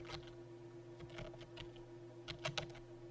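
Keys on a computer keyboard are tapped in quick, uneven bursts of soft clicks over a faint electrical hum, close and quiet, with no voices.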